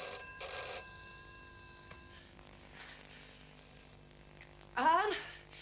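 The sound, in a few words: telephone ringing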